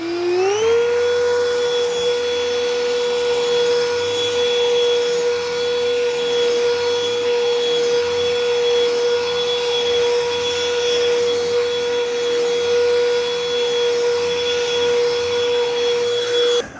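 A Black & Decker Furbuster handheld vacuum runs on high with its brush on over carpet, a loud steady whine that spins up at the start and holds a constant pitch over a rushing airflow roar.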